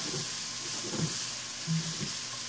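Three cloves of chopped garlic sizzle in a hot pan, a steady close hiss with a few soft stirring scrapes and bumps through the short stretch.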